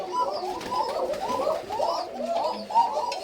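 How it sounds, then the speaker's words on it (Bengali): Koka pigeons at a farm in Durgapur, Rajshahi coo in soft, overlapping rolling calls, a continuous close chorus of several birds with faint background noise. "কবুতর ডাকছে"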